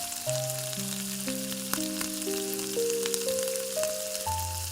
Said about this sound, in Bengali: ফোড়নে আমি দিচ্ছি শুকনো লঙ্কা আর দেব তেজপাতা, আর দেব সাদা জিরে।